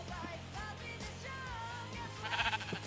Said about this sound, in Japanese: ほらごめんよ羊さん。